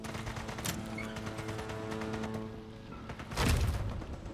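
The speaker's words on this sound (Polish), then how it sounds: "tam z drugiej strony już strzelają też" A burst of gunfire and a heavy thud ring out near the end, over a steady hum of Sniper Elite 5 game ambience and background music.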